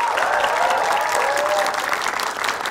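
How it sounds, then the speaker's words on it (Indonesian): A studio audience claps for a chef who cooked for five presidents, steady and fairly loud applause from a small crowd, with faint voices and a thin tone running underneath. "Tepuk tangan dong buat Pak Sukijo."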